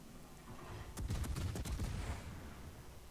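A volley of naval gunfire from a warship in World of Warships, firing at the battleship Musashi: a rapid cluster of heavy, booming shots rolls out over about a second, then fades into a low rumble and ambient background noise.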